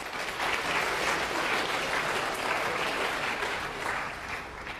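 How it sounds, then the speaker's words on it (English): Steady, dense applause from a crowd, holding at an even level throughout before easing slightly at the very end. "Let's give another round of applause for Patrick"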